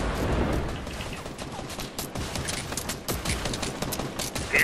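Rapid gunfire in a shooter video game, dense volleys of close sharp shots firing in quick bursts throughout, with a few louder cracks standing out.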